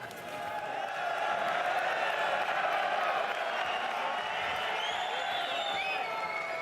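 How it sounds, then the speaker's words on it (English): Arena crowd at a PFL Europe 4 MMA championship event roars and cheers steadily as the third round begins, a broad sustained wash of voices with scattered whistles, loud and continuous throughout. "Some noise from the crowd to start this third round"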